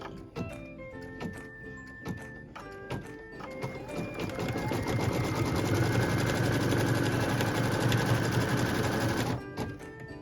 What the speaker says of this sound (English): So now we're stitching the tack down line for piece number 3.